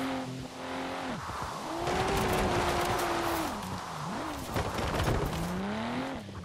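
A Nissan R33 Skyline drifts in Forza Horizon 4, its engine wailing and rising and falling in pitch beneath a sustained, loud tire squeal and skidding through the whole stretch.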